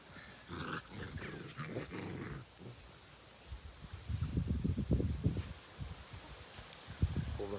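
Low, rumbling growls in bursts from a young dog, close by, mixed with rustling and scuffling sounds.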